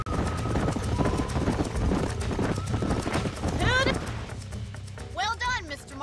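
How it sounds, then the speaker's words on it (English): Hooves clip-clop steadily nearby while a horse whinnies a couple of times in Red Dead Redemption, with a game-like mix of ambient sound and a voice in the background. "These are fine horses"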